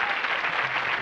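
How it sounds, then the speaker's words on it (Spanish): A television studio audience applauds for Pepe during a tribute show, a brief steady wash of dense clapping with no voices over it. "¡El aplauso para Pepe!"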